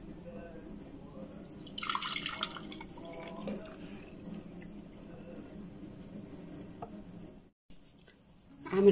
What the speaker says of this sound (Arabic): هبدأ دلوقتي بقى ان انا اصب.